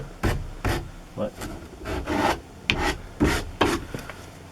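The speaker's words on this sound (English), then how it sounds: "light sanding on that edge" Light hand sanding along the edge of a wooden interior door being trimmed for installation, a series of short raspy strokes in an uneven rhythm, close and fairly quiet.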